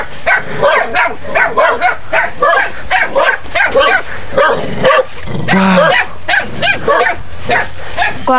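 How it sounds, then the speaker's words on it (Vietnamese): Several fierce dogs barking in sharp, repeated yips and bow-wows along a rural road on a hot day, loud and near, with people talking over them. "Chó rất là dữ luôn các bác ạ."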